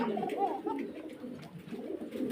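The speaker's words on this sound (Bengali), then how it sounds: "কোকার ডাক শোনেন" A koka pigeon gives a soft, low cooing call in a rural spot. It is faint and somewhat distant, with several throaty coos in a row over a quiet background.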